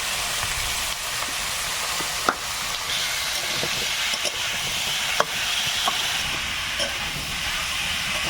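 Cabbage, potato and taro with salt and turmeric fry in a pan for an outdoor meal in the Sundarbans: a steady hiss and sizzle, with scattered scraping clicks as a spatula stirs them.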